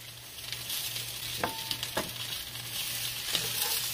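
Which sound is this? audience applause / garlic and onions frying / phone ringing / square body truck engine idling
garlic and onions frying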